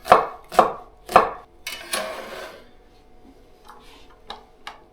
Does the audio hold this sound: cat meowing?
no